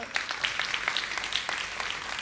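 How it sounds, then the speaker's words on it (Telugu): A church congregation applauds during a sermon, a dense wash of many hands clapping steadily at moderate distance, with no voices over it. "చప్పట్లు కొడదామా బిగ్గరగా?"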